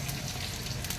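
Peanuts roasting and vegetables sizzling in a pan for mixed vegetable khichdi, a steady hissing crackle of frying close up, with no voices.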